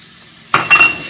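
Chopped onion, freshly grated ginger and thinly sliced garlic land in hot seasoned oil with a sudden loud sizzle and a clink of the utensil, frying steadily and close up without talk.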